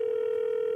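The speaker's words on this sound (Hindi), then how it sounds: "दूसरे कॉलर को फोन लगाते हैं" A telephone dial tone on a call to a TV show caller: one steady, unbroken electronic tone, loud and clear, with no voices.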